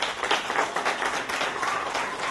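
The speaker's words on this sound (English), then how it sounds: "Please give Amanda a big round of applause." A small summer jam camp concert audience applauds a café volunteer, a dense, steady patter of many hands clapping fairly close for a couple of seconds.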